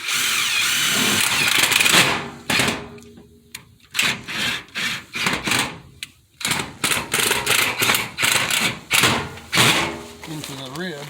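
A power drill driving screws into a metal skirting access panel on a mobile home, loud whirring bursts in short repeated pulses with pauses between them.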